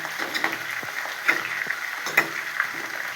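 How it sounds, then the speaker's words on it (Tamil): Onions sautéing in a pan for a spicy colocasia root curry, a soft continuous sizzle with scattered small crackles and stirring ticks, close and moderately quiet, no voices. "வெங்காயம் நல்லா வதக்கணும்னு"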